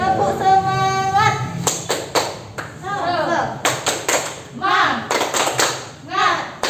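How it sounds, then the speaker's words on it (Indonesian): A group performs the rhythmic 'tepuk semangat' spirit clap, sharp clap patterns coming in short bursts separated by voices talking and chanting. "Tepuk semangat."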